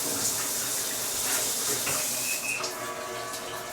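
Hot hotel shower water running steadily in a bathroom, a continuous hissing spray that stays close and fairly loud throughout, with a brief higher squeak near the end.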